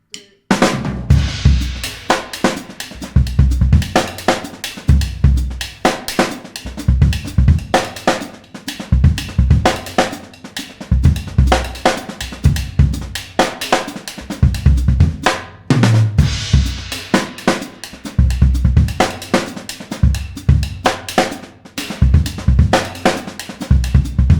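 Steady drum groove played on a kit with a ride cymbal, left-foot hi-hat quarter notes and the main snare, with punchy kick and snare hits repeating in a tight, loud pattern throughout.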